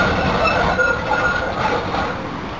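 A train at Richmond station in Melbourne rumbles and rattles close by with a steady, dense roar of wheels and carriages, running continuously without any voices.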